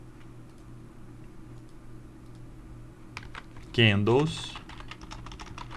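Fingers type on a computer keyboard, a steady run of soft, close clicks behind low room hum, briefly interrupted when someone speaks a single word.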